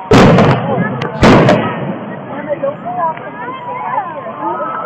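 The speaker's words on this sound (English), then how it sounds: "We watched these fireworks." Two loud, sharp bursts of fireworks going off close by the day before the Fourth of July, then a crackling tail as a person talks over the fading pops.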